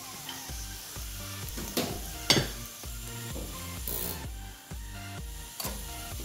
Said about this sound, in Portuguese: E vou refogar aqui. Então tem azeite, bacon e alho.